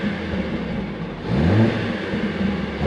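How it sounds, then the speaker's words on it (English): Mercedes-AMG A45 S engine given a quick rev at night, a steady low hum that swells briefly into a rev and settles back, heard faintly from a distance through the camera. "Let's give it a quick rev actually, just so we can see."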